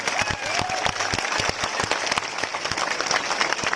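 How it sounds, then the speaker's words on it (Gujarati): A large crowd at a village political rally in Gujarat claps steadily and loudly, a dense continuous patter with sharp individual claps standing out throughout. "પૂરી તાકાતથી તાળીઓ શનિવાર પાડી લો"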